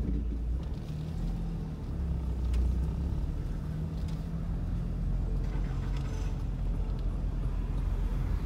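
Low, steady rumble of a car rolling slowly through Parque Malwee in Jaraguá do Sul, with an engine drone and faint mechanical rattles running continuously and no one speaking.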